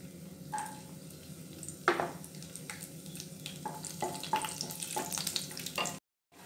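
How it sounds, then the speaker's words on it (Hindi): Cashews frying in hot ghee with red chilli and bay leaf, a continuous close sizzle with sharp crackles and pops scattered through, ending abruptly in silence. "उसके बाद ये काजू डाल करके हम इसे हल्का सा भून लेंगे।"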